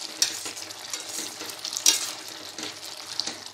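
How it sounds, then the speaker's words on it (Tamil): Flat beans frying in a pan while being stirred, a steady sizzle broken by scraping, clattering stirring strokes at irregular intervals, close and moderately loud with no talking. "இடையில இடையில இந்த மாதிரி கலக்கி கொடுங்க"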